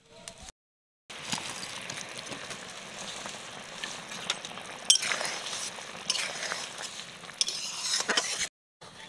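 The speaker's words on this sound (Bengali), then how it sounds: "এবার ভেজে রাখা বলগুলো দিয়ে দেবো।" Fried cabbage manchurian balls stirred into thick cornflour gravy, with soft, fairly faint bubbling, scattered utensil clinks and stirring scrapes, and brief silent gaps at the start and end.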